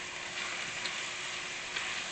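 Shrimp frying in a pan make a faint, steady, hissing sizzle that stays even through the short stretch, with no talking.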